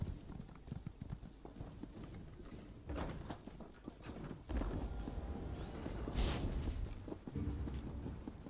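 Rhythmic hoofbeats of a galloping horse in the video game Elder Scrolls Online carry on steadily under a rumbling, stormy background, with a few louder thuds and swells along the way.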